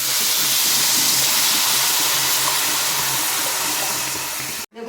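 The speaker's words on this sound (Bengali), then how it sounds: "এখন দিয়ে দেবো পরিমাণ মতো জল।" Water poured into a pot of Bengali bhuni khichuri after the spices and rice-lentil mix are fried, a steady close hissing splash that runs continuously for several seconds and then cuts off abruptly.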